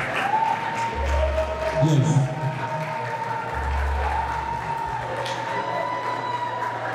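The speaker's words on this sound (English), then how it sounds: "let's clap for her." Audience applause at a beauty pageant, a steady patter of clapping across the room with a brief spoken word and some low thumps beneath.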